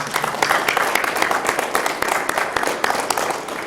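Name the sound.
applause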